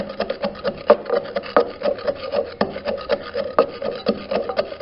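Spices being ground in a heavy clay mortar and pestle, a close, rhythmic gritty scraping and rubbing with regular strokes about twice a second, steady and alone.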